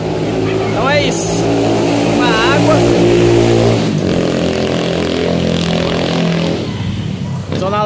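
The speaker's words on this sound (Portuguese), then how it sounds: "Zona Leste, muita moto," Motorcycles and cars pass in dense street traffic in São Paulo's Zona Leste, with a steady engine drone and revving bikes throughout, and a rising whine or two cutting through near the start.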